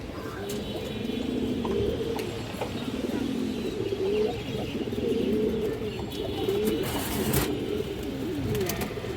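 Pigeons on a Bangladeshi pigeon farm keep up a dense, overlapping chorus of cooing, steady and fairly close throughout with no one talking.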